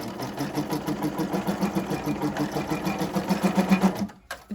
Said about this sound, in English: I'm just going to sew this part.